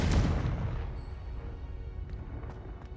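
A single Confringo blasting spell explodes in the Hogwarts Legacy video game: a loud, close burst that fades into a low rumbling tail, with a few faint ticks near the end.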